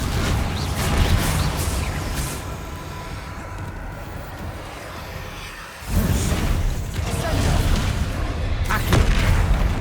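A Bombarda blasting spell explodes in Hogwarts Legacy with dense, roaring booms that fill the mix, easing briefly before a fresh surge of rumbling blast noise swells and sustains.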